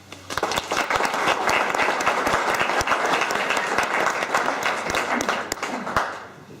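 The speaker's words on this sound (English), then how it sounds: "So again, another big round of applause for those volunteers." An outdoor crowd at a state park trail grand opening applauds volunteers with sustained, dense clapping for several seconds that tapers at the end.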